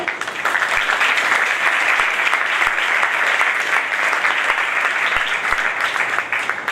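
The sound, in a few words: audience applauding for two brothers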